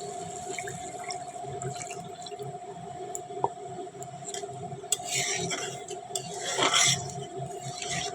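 Water poured into a pan for a katla fish oil-and-chilli curry: a short, moderately loud splashing burst near the end, set against a steady background hum and faint kitchen clatter.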